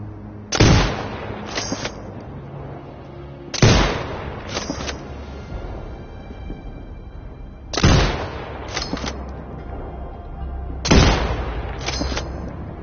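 Four loud sniper rifle shots in a video game, evenly spaced roughly three seconds apart, each a sharp crack followed by a rolling echo and brief mechanical clatter, with a low steady hum beneath.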